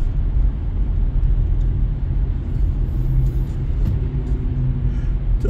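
Road traffic heard from inside a vehicle on a rainy day, a steady low rumble of engine and tyres that stays constant throughout, with no talking.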